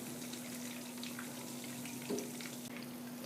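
Chicken nuggets frying in a pan with oil, a soft, steady sizzle that runs quietly throughout, with a low constant hum and a small clink partway through.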